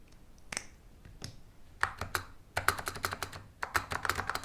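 Quick bursts of typing on an ADB computer keyboard connected through a USB adapter, sharp plastic key clicks in irregular clusters, close and clear with a few pauses between runs.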